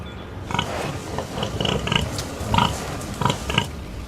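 A pig grunts and snorts in short, uneven bursts close to the recorder, several rough oinks separated by brief pauses over faint background noise.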